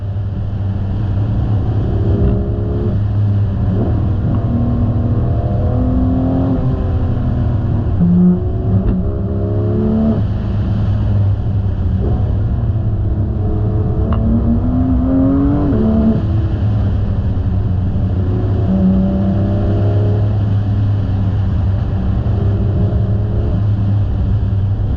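Car driving the winding Tail of the Dragon road in the Smoky Mountains, a steady engine drone with repeated rises and falls in revs through the bends, heard from inside, continuous and fairly loud with no talking.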